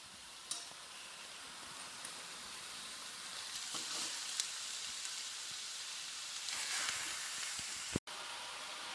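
Rabbit meat browning on a bed of onions in a covered pot, cooking rabbit with prunes, gives a steady soft sizzle and crackle throughout, with a few faint clicks and a brief sharp knock near the end.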